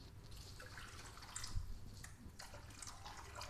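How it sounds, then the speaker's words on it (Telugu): Water from a glass is poured into coriander rasam, a faint continuous splashing pour with light bubbly trickles throughout. "నేను 1 గ్లాస్ వాటర్ పోసేసాను"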